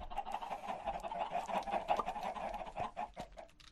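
Minecraft chickens cluck in a busy overlapping flock, a dense chatter of short clucks and squawks that keeps going without a break at a moderate level.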